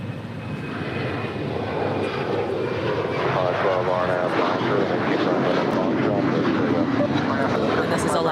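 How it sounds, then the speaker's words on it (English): An Alaska Airlines Boeing 737-900ER jet at LAX roars steadily with its engines, the sound swelling and staying loud and broad. A voice talks over the engine noise. "this is Alaska Airlines Flight 817 off to Honolulu on the island of Oahu. 737-900 ER"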